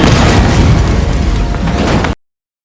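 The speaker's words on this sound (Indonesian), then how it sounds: "Setelah ledakan yang bisa dibilang cukup dahsyat" Massive film explosion, a loud, close, roaring boom with dense rumbling debris that holds for about two seconds before cutting off sharply into silence.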